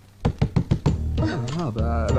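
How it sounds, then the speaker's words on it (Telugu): A quick series of five sharp knocks lands on a door in a dramatic film scene. A voice speaks right after them. "తలుపు కొట్టిన సౌండ్ వస్తుంది"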